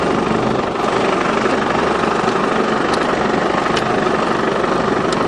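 A dump truck engine runs in second gear on a farm, giving a loud, steady, rumbling drone that holds unbroken throughout with no talking.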